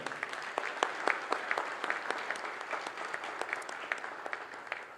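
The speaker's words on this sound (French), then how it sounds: "je vous demanderai de procéder à l'applaudissement, à l'acclamation donc de 5 nominés" Applause from an award ceremony audience acclaiming five nominees for a law prize, a steady wash of many hands clapping with scattered sharper claps, moderately distant and fairly even throughout.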